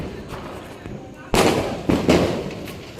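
Diwali firecrackers bursting outdoors: a loud, sudden bang midway, followed by two more crackling pops in quick succession, close by, with voices talking around them.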